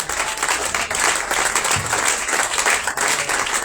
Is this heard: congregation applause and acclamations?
yes